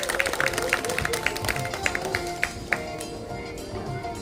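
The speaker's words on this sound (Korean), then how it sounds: "크게 박수로서 축하해 주셨으면 감사하겠습니다" Audience clapping at an outdoor neighborhood festival in Songnim, welcoming an Incheon city council member, a steady crowd patter with sharper individual claps standing out near the start, carrying on for several seconds before fading under background noise.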